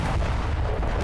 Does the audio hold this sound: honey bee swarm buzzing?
no